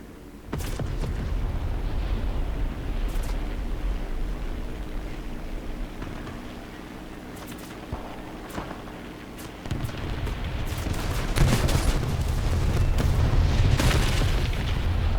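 A heavy, booming explosion from an RBS 82 HEAT-warhead missile fired by an E1 153 Chaika in War Thunder, followed by a long, loud rumbling roar with crackling bursts that swell again toward the end, with no speech.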